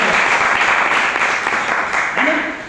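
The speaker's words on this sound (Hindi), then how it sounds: "एक बार ताली बजा दो" An audience at a motivational business speech for RCM breaks into dense, sustained clapping that fills the whole stretch and fades slightly toward the end.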